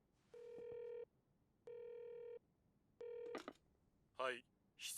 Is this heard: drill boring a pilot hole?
no